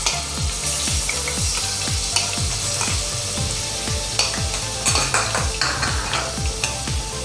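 Curry leaves and ginger garlic paste frying in hot oil with cumin, a loud continuous sizzle and crackle, with a spoon stirring and scraping in quick repeated strokes, close up and with no voices.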